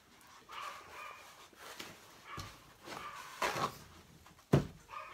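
Dogs bark in scattered, muffled bursts from another room, with one sharper bark near the end, over faint background noise.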